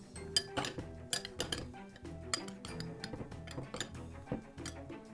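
Salad ingredients with fresh parsley get tossed in a bowl, producing quiet, irregular clinks and scrapes of utensils against the dish in short bursts.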